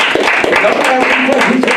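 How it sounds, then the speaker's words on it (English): An audience gives a round of applause for a guest, a loud, close patter of many claps that runs the whole time while people talk over it. "Give him a round of applause."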